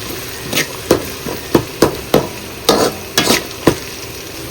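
Onions and tomatoes frying in a pan for pepper chicken gravy, stirred with a utensil: about a dozen sharp, uneven scraping knocks over a low, steady sizzle, close and clear, no talk.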